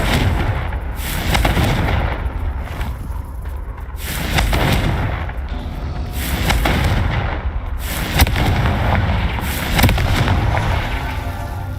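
Repeated fiery spell blasts in Hogwarts Legacy, a series of heavy booming explosions every couple of seconds over a dense rumbling game soundscape, with no talk.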